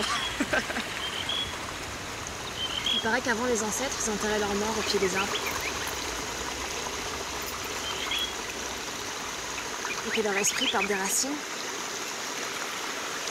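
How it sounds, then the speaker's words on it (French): A steady rush of flowing water fills the background while a person speaks calmly over it, with faint high bird calls. "Moi, j'entends la rivière."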